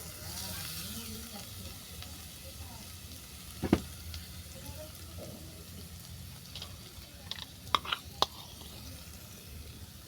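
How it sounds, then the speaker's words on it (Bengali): Figs tossed into a pan of lightly fried raisins, a soft steady sizzle of frying with a few sharp clinks and stirring taps near the end, heard fairly quietly and without talk. "কিশমিশ হালকা করে ভেজে নেওয়ার পর দিয়ে দিচ্ছি ডুমুর"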